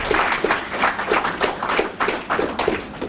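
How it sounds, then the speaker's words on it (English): An audience claps at a news event, with uneven bursts of handclaps that rise and fall in loose waves, close and moderately loud, with no voices over them. "Give a round of applause."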